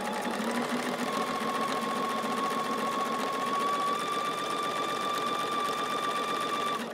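A sewing machine runs steadily and close by for several seconds, stitching quilt block pieces for an hourglass block, with a constant whirring hum and rapid needle rhythm and no talk.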